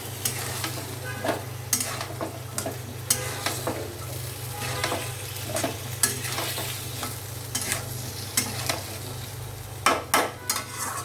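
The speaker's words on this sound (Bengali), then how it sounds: "এবার কিছুক্ষণ কষায় তার কষানো হয়ে গেছে মোটামুটি। এখন আর একটু কষায়" Spices for a tilapia curry are sautéed with drumsticks and potatoes in a pan, steady frying sizzle under a low hum, broken by regular spoon scrapes and clacks close by.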